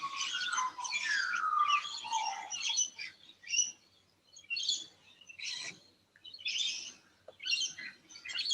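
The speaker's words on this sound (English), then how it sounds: "Is it just me, or are the birds going crazy on your end?" Wild birds chirp and trill outdoors at dawn in a busy chorus of repeated tweets and whistles, moderately close, with no talking.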